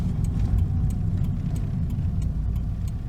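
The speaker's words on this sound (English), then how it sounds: "the vehicle now stops on its own and accelerates away like it's supposed to" A 1996 Nissan Altima with worn motor mounts idles and pulls away from a stop sign. A steady, low engine rumble runs close by throughout, with no talking.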